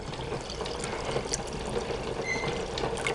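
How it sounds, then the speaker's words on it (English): White vinegar pours steadily into a container of water for pickling cauliflower, a close, continuous liquid stream with a soft trickling texture and no talk. "Get my vinegar now. I'm using a white vinegar."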